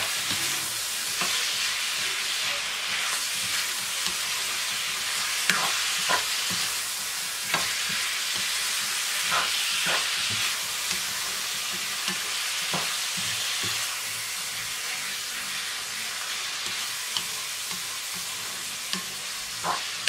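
Ground pork and beef sizzle steadily in a hot pan for cooking beans, with a spoon or spatula scraping and stirring in sharp clicks and knocks over a constant close frying hiss.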